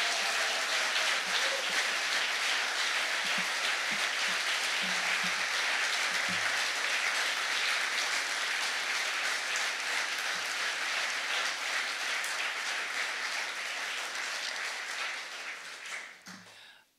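Audience applause at a live concert at Het Nutshuis in The Hague, a dense, even roar of many hands clapping sustained for about fifteen seconds before fading out, a few voices faintly beneath.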